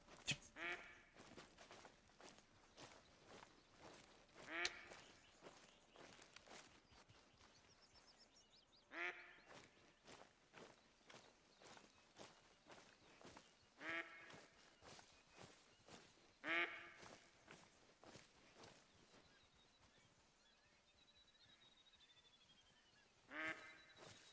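Ducks quack repeatedly in TheHunter: Call of the Wild, with irregular bursts of calls scattered across the whole stretch, moderately distant and fairly faint in the game's outdoor ambience, with no talk over them.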